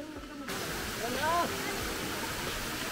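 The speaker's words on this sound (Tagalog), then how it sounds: "So, ayan na ang falls." A waterfall at Zambales in the Philippines roars as a steady, broad rush of falling water that swells in suddenly and holds constant, with a voice speaking briefly over it.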